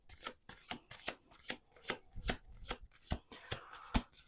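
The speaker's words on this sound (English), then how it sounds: "let's do 2 more shuffles" A deck of cards being riffle-shuffled up close, with repeated crisp bursts of ruffling and snapping at a steady, quick rhythm and nothing else heard.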